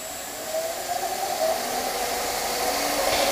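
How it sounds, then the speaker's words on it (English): A wood lathe turns a black locust bowl blank at about 1000 RPM, giving a steady, hair-dryer-like motor whir with a thin whine running through it. The sound stays even and fairly close throughout, with no talking. "Turn the lathe on here"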